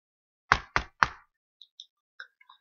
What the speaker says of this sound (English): so I knock lightly.